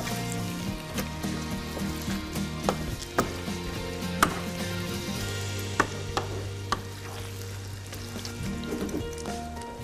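Pine nuts, lightly pre-toasted, fry in oil in a pan, giving a steady soft sizzle with scattered small ticks and clinks and a low hum running underneath.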